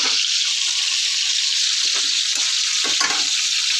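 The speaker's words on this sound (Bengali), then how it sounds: "তো কপিটা একটু ভালো করে ভাজা হোক।" Cauliflower florets frying in oil in a pan, a loud, continuous sizzle with a few stirring scrapes breaking through, close and with no voices.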